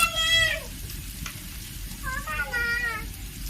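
Chopped onions sizzle steadily in a pan, frying until reddish for khichuri, with two brief high tonal cries rising over the low hiss.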